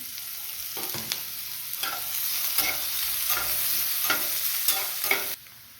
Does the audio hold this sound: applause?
no